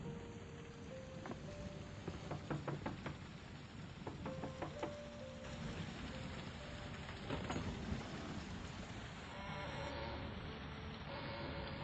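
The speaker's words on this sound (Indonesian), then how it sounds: "Hujan turun sangat deras." Heavy rain falling steadily at moderate distance, a dense continuous wash with scattered knocks and drips, with no talk over it.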